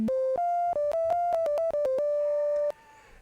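A sine waveform from the Audiothing Minibit synth plugin plays a quick, bright melody of short steady notes, ending on a long held tone that cuts off abruptly, leaving faint hiss. No one speaks.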